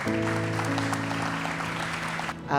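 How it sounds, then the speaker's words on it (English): An audience at a hurricane preparedness event applauds, steady clapping throughout with a low hum or sustained tone underneath, fading slightly near the end. "So I think that's worth a special round of applause."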